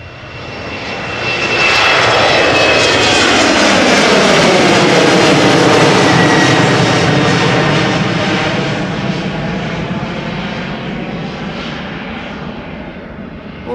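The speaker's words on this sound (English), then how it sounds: "Delta Airlines flight 163 is taxiing to the north" Delta Airlines jet taxiing at Amsterdam Schiphol Airport, a loud, steady engine roar that swells within two seconds and holds, then eases slightly while staying close and continuous, with no talk.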